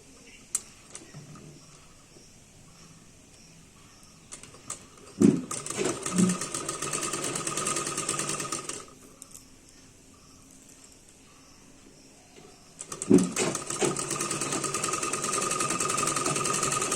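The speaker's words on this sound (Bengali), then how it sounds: "এই কাটিংয়ের ওপর এইভাবে বসিয়ে সেলাই করে দিচ্ছি" A sewing machine stitches a blouse sleeve in two steady, close runs of rapid mechanical chatter, separated by a pause of a few seconds, with faint handling sounds in between.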